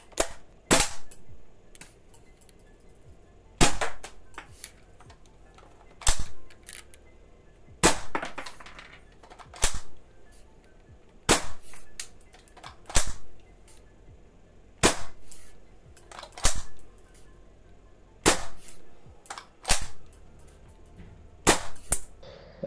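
WE L85 gas blowback airsoft rifle firing single test shots outdoors in cold weather, about fourteen sharp cracking pops spaced roughly one to two seconds apart, each followed by a short mechanical rattle of the bolt, with no talking.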